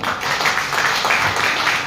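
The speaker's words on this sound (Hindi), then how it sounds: "एक जोरदार तालियां।" An audience at a health awareness program claps together in a steady, dense wash of applause that stays fairly loud and continuous throughout.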